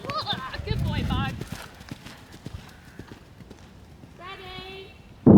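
Horse hooves cantering on a cross-country riding course, a rhythmic clip-clop of strides with someone speaking over it and a brief neigh-like tone near the end.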